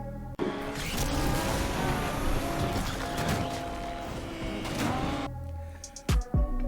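A Nissan Silvia K's drifts in the Need for Speed racing game, with a loud, sustained roar of engine and tire squeal for about five seconds before it cuts off into a few short bumps.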